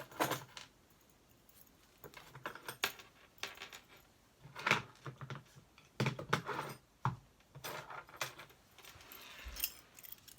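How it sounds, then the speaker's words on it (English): Metal keys and small heavy keychain charms on a lanyard jangle and clink in irregular bursts, close and quiet, with brief pauses between shakes and no talking. "And this is a lanyard for keys."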